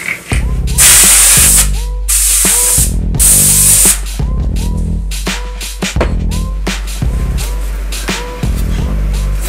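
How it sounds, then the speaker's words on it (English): Compressed air sprays in loud bursts inside an opened 2005-2012 MacBook Pro during an SSD upgrade, long hissing blasts giving way to rapid repeated short puffs, very close and dominating. "Where's my compressed air?"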